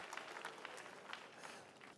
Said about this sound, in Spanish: ¿Podemos darle un fuerte aplauso a nuestro Señor Jesucristo?